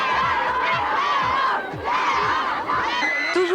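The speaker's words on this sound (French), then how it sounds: "quand Leonardo DiCaprio se déplace à Paris, c'est toutes les filles de la capitale qui hurlent son nom" A large crowd of girls in Paris screams loudly and continuously for Leonardo DiCaprio, a shrill, hysterical wall of shrieks that rises and dips in waves without pause.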